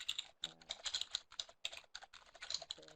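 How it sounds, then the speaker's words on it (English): Rapid clicking keystrokes on a computer keyboard heard through headphones, irregular bursts of crisp taps with brief pauses, faint and close. "I'm hearing typing in my headphones"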